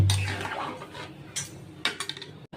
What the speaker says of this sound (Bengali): দেবো চিনি, ভালো করে মিশিয়ে নেব